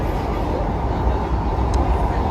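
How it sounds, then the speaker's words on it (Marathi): A loud, steady rumbling roar of a metro train arriving close by, filling the whole clip with dense low noise. "मेट्रो आली आणि खूप धावत आली आहे"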